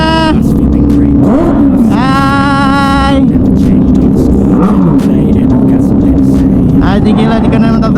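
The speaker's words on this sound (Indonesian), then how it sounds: "Kita kasih geberan dulu biar semangat." A motorcycle at a Sunday-morning rider gathering revs up in rising and falling bursts over a loud, constant engine rumble, with someone talking over it throughout.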